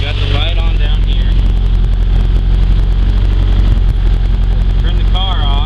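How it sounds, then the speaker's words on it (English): A 400hp race-built Honda Civic engine idles loudly and steadily, a dense low rumble with a fast rattling pulse throughout, while a person talks over it. "See, now the car's idling fine"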